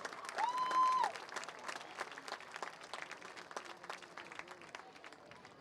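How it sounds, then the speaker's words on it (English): Crowd applause in the stands at a high school football game, a steady crackle of many hands clapping under a brief whistle-like tone at the start, fading gradually as it goes on. "One more big round of applause for the Horner Trio."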